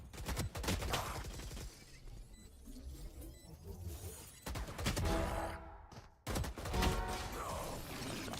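Gunfire in a Valorant-style tactical shooter, rapid bursts of sharp shots in clusters separated by short quieter gaps, with metallic mechanical clicks and a hiss of game ambience in between.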